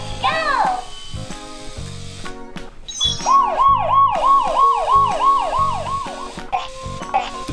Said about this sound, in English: It can turn the robot into a police car.